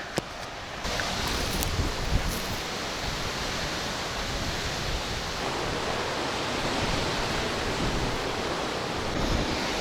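Black Sea waves wash onto a beach in a steady broadband roar, loud and close, with wind noise on the microphone and no talk.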